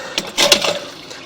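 Water running through a plumbing line to flush it clear, a short rushing, splashing burst that swells and fades within about a second, moderately close, with no talking.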